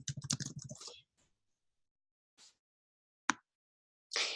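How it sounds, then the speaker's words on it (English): Keys on a computer keyboard clatter in brief bursts: a quick run of presses at the start, then a few isolated clicks and a short final flurry, all close and clear. No voices accompany them. "Let me go back here and just type in typography."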